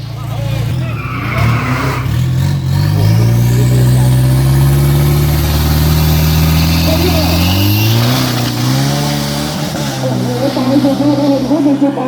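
SUV with a Turbo F55 engine roaring down a 402 m drag strip, loud, close and sustained, engine pitch climbing through gear changes with a brief shift dip, tire noise underneath.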